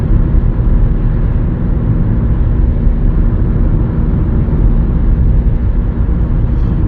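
A worn rear wheel bearing on a 2020 Nissan Rogue drones as the car drives, a loud, steady low hum and road rumble filling the cabin without break.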